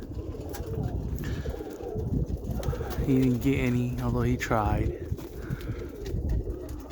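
Roller pigeons coo in low, rolling bursts midway through, heard under someone talking steadily over background noise.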